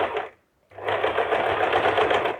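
A sewing machine stitches a princess cut blouse seam in two close, rapid bursts of whirring, a short run, a brief pause, then a longer steady stretch.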